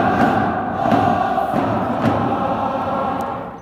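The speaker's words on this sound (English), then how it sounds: "Here's Gamba Osaka's vocal crowd" Gamba Osaka football fans fill a J-League stadium in Osaka, making a steady, dense crowd roar with a few dull thumps. The sound is loud and sustained and fades slightly at the end.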